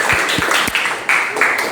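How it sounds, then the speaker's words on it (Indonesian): A classroom group applauds group 3 in loud, dense, continuous clapping from many hands, with a few sharper slaps near the start. "Beri tepuk tangan buat kelompok 3."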